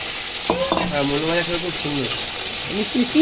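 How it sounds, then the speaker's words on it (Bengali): Sliced radish frying in a pan with stirring, a continuous sizzle with occasional scraping while someone talks over it. "এই যে মুলোগুলো কেটে কেটে নিয়ে ভেজে নিচ্ছি"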